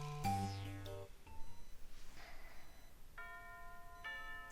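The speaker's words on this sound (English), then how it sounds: "within milliseconds of the lunch bell ringing throughout campus" A chiming school lunch bell rings across campus in a visual novel game, a quick run of bright, clear bell tones with ringing overtones, then a few softer sustained chimes, fairly quiet and with no voices.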